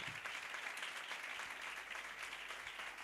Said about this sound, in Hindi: मैं चाहूंगा पास्टर साहब के लिए जोरदार तालियां बजाएं